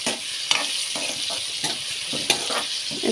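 Onion, dried chilli and curry leaves fry in a pan with a continuous close sizzle, broken by repeated scraping stirs at a regular rhythm.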